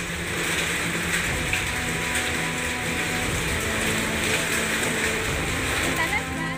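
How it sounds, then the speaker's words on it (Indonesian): A hailstorm with rain in Sambi, Boyolali, Central Java, heard as a dense, even roar of falling drops that continues without letup throughout. "Fenomena hujan es terjadi di Kecamatan Sambi"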